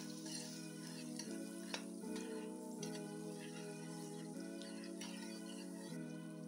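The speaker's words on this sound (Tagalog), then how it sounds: "Mainit na yung mantika. Maglalagay tayo ng luya, bawang, sasaluin lang natin." Ginger and garlic sizzle and fry in hot oil in a pan, a constant bright crackle with occasional stirring scrapes, close and steady.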